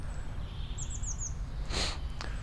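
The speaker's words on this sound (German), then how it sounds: "War sehr entspannt mit den Vögeln, vielleicht hört ihr das auch im Hintergrund hier die ganze Zeit." Birds chirping in the background at a winter wild campsite, a short run of thin high chirps faint over steady outdoor rumble, followed by a brief soft rustle.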